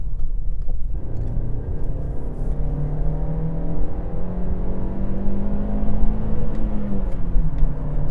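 Volkswagen Golf engine revving up with a smooth, refined tone, rising in pitch steadily and then easing off, heard close from inside the cabin with a continuous muted rumble underneath.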